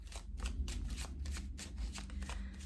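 Tarot cards are shuffled and handled in quick bursts of crisp riffling and flicking, roughly a dozen dry snaps in steady rhythm, close and fairly soft, with no talk over them.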